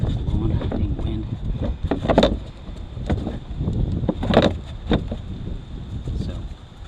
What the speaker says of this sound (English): Blowing dang wind.